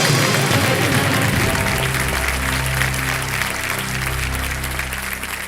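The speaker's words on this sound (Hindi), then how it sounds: "जोरदार तालियां बज जाए इनके लिए।" Loud, steady applause from a studio audience on the set of a TV quiz show, continuous clapping filling the whole stretch with a low rumble underneath.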